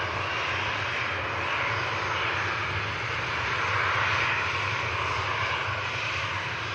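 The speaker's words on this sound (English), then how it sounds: "Look at this. 380. Next aircraft in." An Airbus A380 approaches Manchester Airport over Stockport, its engines a steady, loud, broad roar that swells slightly midway and holds without pause.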